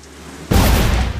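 A C4 charge set on a door detonates in The Saboteur video game, a sudden loud boom with a heavy low rumble that carries on after the blast.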